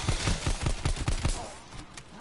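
Rapid gunfire in a video game, a burst of about eight quick shots followed by a couple of fainter ones, with a voice talking underneath.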